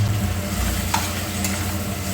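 Chopped tomatoes hitting a hot frying pan, giving a steady, close sizzle with faint stirring scrapes and a small clink partway through.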